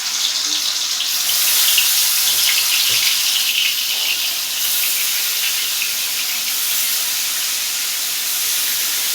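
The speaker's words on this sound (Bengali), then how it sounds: "এই যে তেলটা গরম হয়ে আসছে, এখন তেলের মধ্যে মাছগুলো দিয়ে দিব।" Pangasius fish fry in hot oil with a loud, steady sizzling hiss that barely changes over several seconds, heard close up and with no voices.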